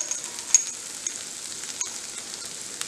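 Paneer filling stirred in a pan over a low gas flame gives a faint, steady sizzle, broken by a few soft scraping clicks from the stirring.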